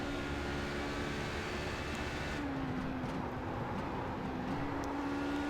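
Race car in the iRacing sim powering out of a tight hairpin, a steady engine drone with a rising pitch sweep as it accelerates, continuous and fairly loud with no talk.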